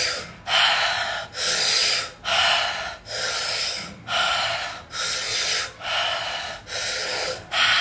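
Deep, forceful breaths during a guided manifestation breathing exercise, about eight even cycles of loud, airy rushing in a steady rhythm, close and alone without speech.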